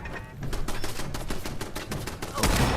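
Turret gunfire in Fallout, a rapid, rhythmic stream of close, sharp shots rattling steadily for almost three seconds, with a heavier impact near the end.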